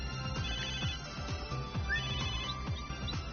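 Phone ringtone in the video game Megadimension Neptunia VII, a repeating electronic melody of short chiming notes over a steady game music bed, loud and continuous with no talking.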